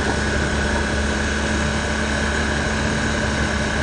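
Motorcycle ridden fast on a dirt road, a continuous steady engine drone with constant wind roar, loud and unbroken for a few seconds.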